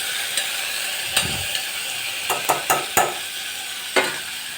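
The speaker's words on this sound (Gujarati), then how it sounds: "ટમેટા, ગાજર, હલાવી દઈશું બધી વસ્તુ." Tomatoes and carrots stirred in a pot over a gentle sizzle, with several sharp clacks of a spoon against the metal sides at irregular intervals, close and without talking.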